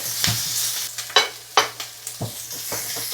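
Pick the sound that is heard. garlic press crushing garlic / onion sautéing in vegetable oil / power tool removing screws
onion sautéing in vegetable oil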